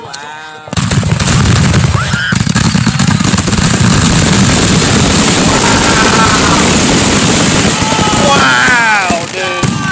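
July 4th fireworks burst close by in loud, rapid succession, with booming blasts and crackling that fill the scene almost continuously while excited voices exclaim over the noise.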